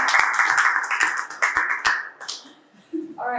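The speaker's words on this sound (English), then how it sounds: "let's give Amy a round of applause for her show and tell." A small meetup audience gives a short round of applause, a handful of distinct claps spaced across a couple of seconds before fading, with a voice coming in at the end.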